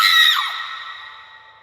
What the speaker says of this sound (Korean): 그런데 그때 옆방에서 간호사의 앙칼진 비명소리가 들렸다